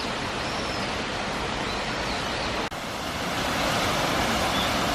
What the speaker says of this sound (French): Regardez-moi cette petite cascade. Si c'est pas mignon. Avec le petit cours d'eau.